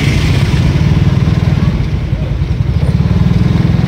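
Suzuki Satria 115 Young Star motorcycle from 2015, 115 cc engine, running steadily while being ridden; a loud, continuous low engine drone with a fast pulsing rhythm, close to the listener and alone, with no talking.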